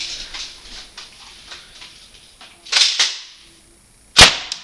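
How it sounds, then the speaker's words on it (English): A Mossberg tactical spring-powered airsoft shotgun fires, with two sharp snapping shots close by a moment apart and a third crisp crack near the end, over light background rustle and no talking. "Now the shotgun."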